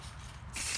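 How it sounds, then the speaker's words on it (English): A can of silver spray paint lets out a steady, close hiss that starts partway through after a quiet rustling lead-in. "decent spray, trying to get every surface"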